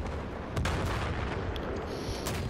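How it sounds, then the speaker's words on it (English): A-10 jet gun run in a military video game, heard as a dense, continuous roaring burst of cannon fire with booming low rumble that swells around the middle and holds steady to the end, loud and close with no talk. "Gun run coming in on Bravo."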